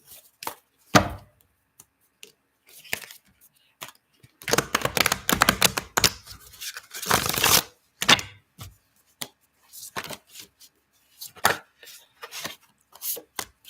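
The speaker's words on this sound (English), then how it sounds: "I just shuffle until they come out, and if they keep coming out, then we keep shuffling" A deck of tarot cards is shuffled by hand up close, making intermittent bursts of rapid clacking and riffling separated by quiet gaps, with one longer, denser flurry near the middle.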